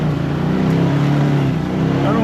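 A Can-Am Maverick Sport Max side-by-side with a Stage One aftermarket installation drives on trails, its engine giving a loud, steady, close droning roar that holds high revs throughout.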